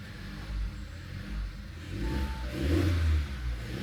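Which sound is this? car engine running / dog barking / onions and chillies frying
car engine running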